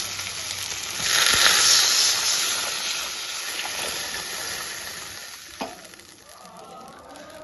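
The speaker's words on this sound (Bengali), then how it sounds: "এবার এর মধ্যে আমি জল দিয়ে দেবো।" Water poured into a pan of frying potatoes, tomatoes and chillies for a fish curry sends up a loud hissing burst of steam that gradually settles into a softer sizzle, with a brief knock near the end.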